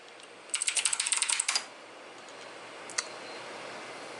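Someone types a password on a computer keyboard: a quick, even burst of about a dozen close keystrokes, then quiet and one final isolated key click a moment later.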